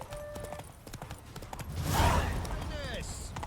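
Horse hooves clip-clop at a gallop while riding in The Witcher 3, a steady rhythmic beat under game music, with a whinny and shouting voices rising midway.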